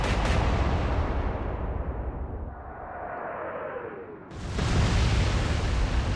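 Naval gunfire from a heavy warship in a World War II naval strategy game, a loud booming blast that rolls away into a long fading rumble before a second roaring burst hits.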